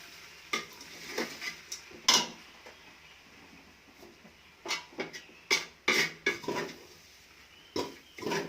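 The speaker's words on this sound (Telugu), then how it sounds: "పౌడర్ చేసుకున్న పప్పుల పిండి మొత్తంగా వేసేసి కలపాలి" Broken wheat upma with lentil flour being stirred in a pan over low flame, a spoon scraping and clinking in irregular bursts against the metal, close and fairly quiet with brief pauses.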